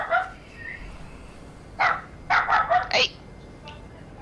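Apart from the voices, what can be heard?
dog barking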